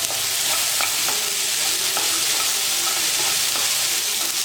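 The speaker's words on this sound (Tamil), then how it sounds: "தக்காளி எல்லாம் காய்கள்லாம் நல்லா வதங்கிடுச்சு" Tomatoes and mixed vegetables sauté in a pan for semiya kichadi, a steady loud sizzle broken by a few light scrapes of stirring, with no one talking.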